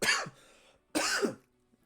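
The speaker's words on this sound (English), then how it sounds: "This name was so confusing it made me cough." Two close, harsh coughs separated by a brief pause, each a rough throaty burst with no talking around them.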